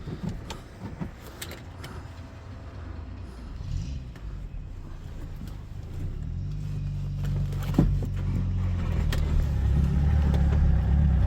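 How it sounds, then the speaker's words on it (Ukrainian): A commercial vehicle's engine at a car market in Rivne, Ukraine, turns over and catches, then settles into a steady low rumble that grows slightly louder, with a few small clicks and rattles early on. "зараз ми цей автомобіль заведемо"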